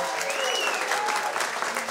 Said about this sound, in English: A big round of applause for Labour MP,